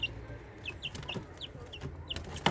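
Young chicks fed meat cheep repeatedly in short, bright peeps at an irregular rhythm over a quiet, faintly rustling background, with a sharp knock at the very end.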